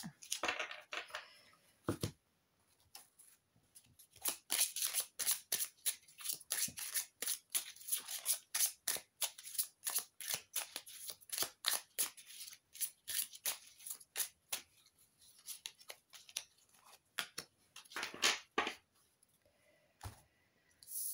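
Oracle cards are shuffled by hand in a quiet room, with repeated quick, soft riffling and sliding bursts that pause and resume.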